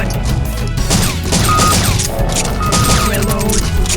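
Gunshots from the Dino Stalker video game, a dense run of cracking shots and thumps over layered game music and effects, loud and continuous throughout.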